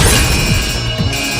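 A car slams into a building and shatters a window on an upper floor, giving a loud, dense crash with rumbling impact thuds that run across the whole short burst.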